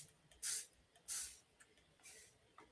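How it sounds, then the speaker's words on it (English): A handheld spray bottle sprays water onto chalk in three short hissing bursts, close and clear, the first two strong and the last softer, with quiet pauses between them and no speech. "I'm gonna spray it with water."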